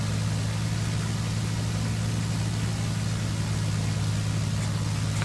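A simulated Beechcraft Bonanza V35B piston engine holds a run-up at 1700 RPM in X-Plane 11, a constant loud droning hum with a hissy wash over it and no talk.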